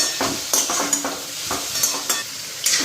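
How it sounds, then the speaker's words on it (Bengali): Spice masala with chilli powder sizzles in a pan alongside lightly fried potatoes, stirred with repeated scraping strokes of a utensil against the metal, close and clear with no talk. "তো এটা মশলাটা ভালো করে ফ্রাই হোক"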